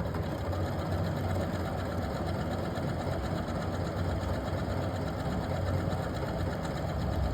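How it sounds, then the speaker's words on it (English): A sewing machine automatically stitching a buttonhole, a fast, steady mechanical whir and rapid needle clatter running continuously at an even pace, close and fairly loud, with no talking. "The machine will sew the whole thing for you."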